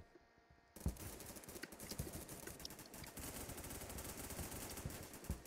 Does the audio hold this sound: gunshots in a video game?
yes